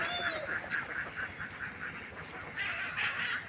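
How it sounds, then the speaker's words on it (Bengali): A large flock of ducks on a village farm gives repeated nasal quacks in quick rhythmic bursts, fairly close but moderately faint, with a louder cluster of calls near the end. "প্রচুর হাঁস আছে এখানে"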